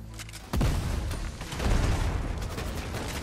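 Gunfire rattles in a Fortnite match, with a sharp burst followed by sustained, dense volleys of shots and booms that fill the scene at moderate loudness.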